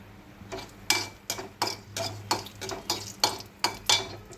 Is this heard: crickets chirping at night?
no